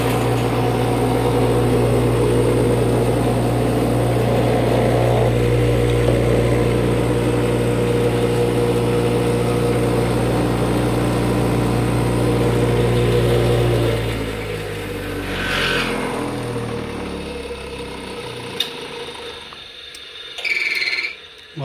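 A bench grinder fitted with DynoMat Xtreme damping material runs with a steady, loud motor hum and resonant drone, then spins down and fades out near the end, with a brief clack as it stops.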